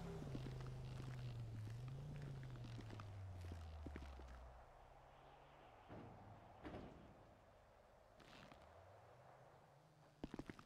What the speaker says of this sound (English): Look at the footstep ka sound here.